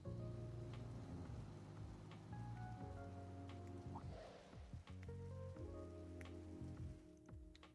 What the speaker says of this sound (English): the rain was coming down even more heavily